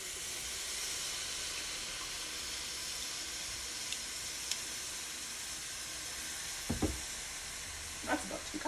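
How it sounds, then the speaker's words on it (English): Two cups of broth poured into a pot of simmering carrot and coconut soup, giving a steady hiss and sizzle with a few soft clinks of utensils near the end. "What I'm now gonna add is 2 cups of our broth"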